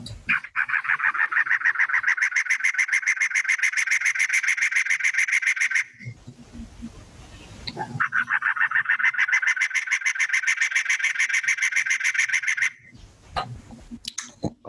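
A cactus wren gives two long runs of harsh, rapid, chattering calls, loud and close, separated by a brief pause with faint rustling.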